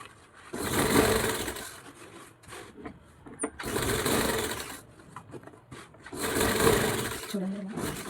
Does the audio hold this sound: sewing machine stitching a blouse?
yes